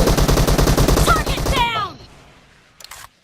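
Rapid automatic gunfire in the mobile battle royale game PUBG Mobile, a loud burst of evenly spaced shots lasting over a second, then fading echoes and a brief faint follow-up.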